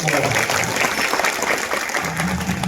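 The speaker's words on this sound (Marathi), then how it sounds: "त्यांच्यासाठी टाळ्या वाजवतात" Audience applause at a Marathi devotional kirtan performance, a dense continuous patter of many hands clapping at steady loudness throughout, with some crowd murmur mixed in.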